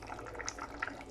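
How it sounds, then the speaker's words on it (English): Hot water pours into a cooking pot of potatoes outdoors, a short, soft, continuous trickle with faint splashy flecks, close and quiet. "So I put in some hot water."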